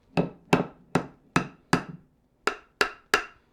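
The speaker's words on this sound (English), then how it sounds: "So then you're just gonna squish some glue and then plug it in with the dowel. If you have a mallet, you go ahead and give it a tap." A mallet taps a wooden dowel into a glued hole in a woodworking project, with eight crisp, evenly spaced knocks that ring briefly, heard close and alone.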